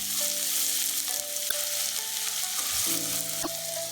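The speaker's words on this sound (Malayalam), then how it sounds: "വെളിച്ചെണ്ണ ചൂടായി വരുമ്പോൾ അതിലേക്ക് ചെറുതായി അരിഞ്ഞു വെച്ചിരിക്കുന്ന ചെറിയ ഉള്ളി ചേർത്ത് കൊടുക്കാം." Chopped small shallots sizzle steadily in hot coconut oil for a crab curry, a constant bright frying hiss with a few spoon taps and clinks against the pan.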